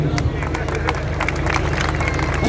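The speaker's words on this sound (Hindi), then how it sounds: "मेरे सम्मान में तालियां बजा दीजिएगा" A live comedy show audience breaks into applause, a dense burst of many hands clapping close together with murmuring crowd noise mixed in, steady and fairly loud throughout.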